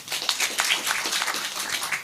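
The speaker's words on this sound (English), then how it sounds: "Please clap for them." An audience claps steadily at a children's services directorate report event. The applause is dense and sustained, with no speech.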